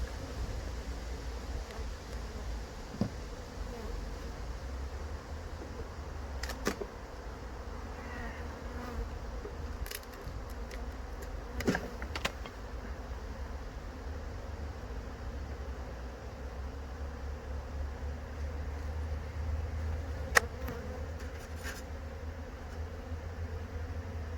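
Honey bees buzz around an open beehive in a soft, steady drone, with occasional faint clicks and knocks from hive handling nearby.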